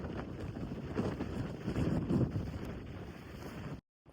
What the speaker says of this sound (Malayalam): താഴേക്ക് പോകും തോറും കാറ്റിൻ്റെ ശക്തി നല്ലപോലെ കൂടി വന്നു